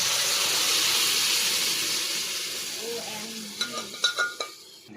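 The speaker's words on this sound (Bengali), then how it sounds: "একটু খুন্তি দিয়ে ঘেটে দাও" A spatula stirs a fried spice mix in a hot pan while cooking ghugni, a soft, continuous sizzling hiss with scraping, followed by a few sharp metallic clinks of the spatula near the end.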